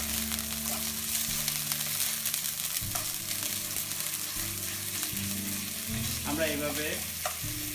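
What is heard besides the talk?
salmon and chopped onion frying in a pan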